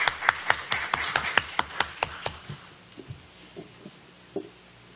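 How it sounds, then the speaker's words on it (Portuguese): A single person's hand claps at a university congress on the history of science, about a dozen sharp, close claps in quick rhythm, then a few fainter scattered claps trailing off. "Por favor, uma salva de palmas."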